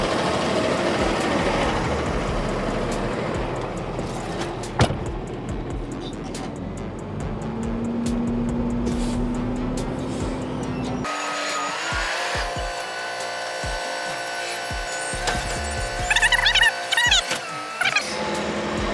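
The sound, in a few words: single axle truck hauling a 22-foot dumpster down the street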